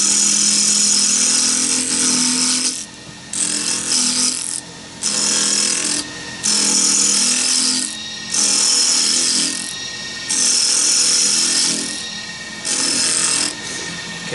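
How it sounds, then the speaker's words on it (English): Carving tool slicing thin shavings from a wooden medallion, working the corner and edge with an angled tip, heard as repeated close scraping cuts in bursts separated by brief pauses. "So tip at a slight angle, start with the corner, and I just cut in. You can see I'm getting good, small, thin shavings"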